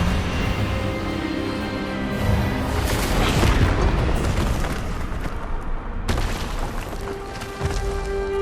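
A spell blast in the game Hogwarts Legacy bursts out as a loud, booming explosion over dense, busy game effects and music, with a second sharp burst near the end.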